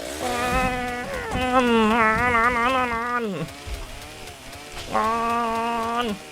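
A chainsaw in the Roblox game 99 Nights in the Forest revs in a loud, buzzing whine that wavers in pitch, drops off briefly, then revs up again.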